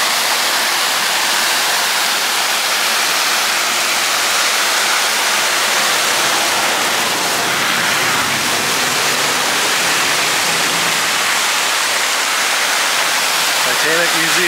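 Steady rushing and splashing of fountain water at the Branson Titanic attraction, a loud, continuous broadband wash heard close up, with no breaks and no voices cutting through.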